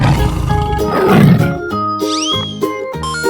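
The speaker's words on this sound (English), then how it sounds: "Tiger" A tiger roars in a 3D animal video game, one loud growling call layered over bright, bouncy game music, with a few rising chime effects near the end.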